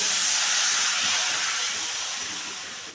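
Water poured into a pan of hot spices frying in oil bursts into a loud, close steam hiss that slowly fades over a few seconds.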